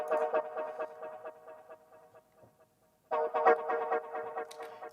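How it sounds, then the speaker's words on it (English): A Serum synth preset in a UKG track plays short, plucky chord stabs with a little filter attack in a bouncy rhythm, fairly quiet, with a brief gap before the stabs return. "It's just like a short, plucky kind of sound with like a little bit of attack to the filter"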